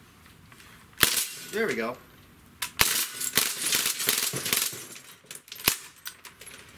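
Crosman full-auto BB air rifles, a Bushmaster MPW and a DPMS SBR, fire in quick sharp bursts of rapid snapping shots at close range, with a brief spoken remark and some rattling handling between bursts.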